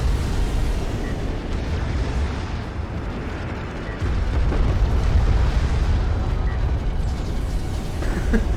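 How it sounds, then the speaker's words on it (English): Heavy artillery barrage and bomber strike pounding a carrier in a strategy video game, a dense, continuous roar of low rumbling explosions with creaking mechanical undertones, loud and sustained with no voices. "Precision barrage plus bomber equals a lot of damage on this carrier."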